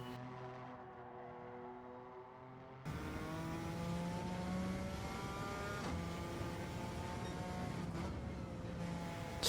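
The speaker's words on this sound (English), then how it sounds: "Slamming on the brakes for one of the tighter corners." A race car in the Gran Turismo 7 video game brakes hard for a tight corner, its engine note shifting through steady tonal whines with pitch changes as it slows, heard alone throughout.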